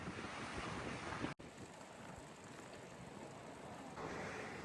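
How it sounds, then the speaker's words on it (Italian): Strong coastal wind on Favignana buffets the microphone in a constant roaring rush, with a brief dropout partway through and a gust swelling near the end. "il vento qua è devastante"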